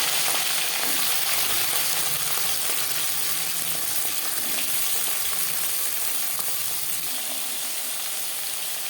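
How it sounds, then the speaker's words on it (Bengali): Flat beans and brinjal frying in hot refined oil with broken dried red chillies, a loud, dense, continuous sizzle that holds steady throughout with no one talking. "তিন চামচ রিফাইন্ড অয়েল গরম করে নিয়েছি আর ফোনে দিয়ে দিয়েছি তিনটে শুকনো লঙ্কা"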